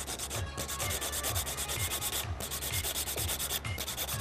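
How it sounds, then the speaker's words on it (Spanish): Rhythmic rasping of a nail file across a fingernail, close and fairly loud, with quick regular back-and-forth strokes broken by two short pauses. "nuestra lima debe estar completamente recta para evitar escalones"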